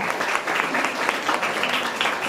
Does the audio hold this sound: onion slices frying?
no